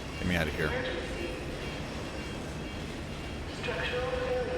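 Tram rolling along its track in the video game FEAR 2 Project Origin, a continuous rumbling rail clatter with metallic squeals, while a voice speaks over it.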